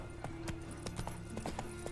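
Roach, Geralt's horse in The Witcher 3, trots with quick, steady clip-clop hoofbeats at moderate distance over a low background hum, with no talking.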